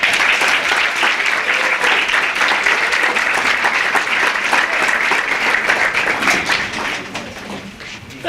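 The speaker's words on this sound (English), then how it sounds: "Clap it up for Brother Carl." Audience at a Hartford mayoral campaign announcement applauds steadily and loudly for several seconds, a dense wash of clapping that tapers slightly near the end.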